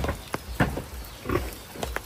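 Pig grunting on a farm in short, rough bursts spaced across the moment, fairly close and moderately loud, with no talk over it.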